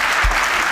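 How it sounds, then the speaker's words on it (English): Applause from a business event audience, a short steady burst of clapping with no break. "Let's give him another round of applause."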